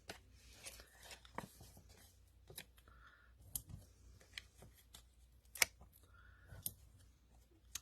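Scissors snip through cardstock in a quiet crafting session, fussy cutting around the edges of a printed harvest card panel; faint, irregular clicks and short cuts come in scattered bursts over soft background hiss.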